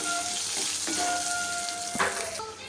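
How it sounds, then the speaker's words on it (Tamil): Cashews and seasonings tempering in a hot pan, a steady crackling sizzle throughout with a few brief clinks and stirring noises. "எல்லாமே நல்லா தாளித்து ரெடியாகட்டும்"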